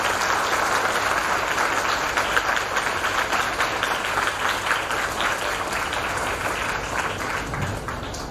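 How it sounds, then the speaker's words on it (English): An audience at a state-level philatelic exhibition breaks into a big round of applause, a dense, steady clapping that holds at full strength for the whole stretch and eases only slightly at the end, with no voices over it. "Let us all energize ourselves with a huge round of applause once again."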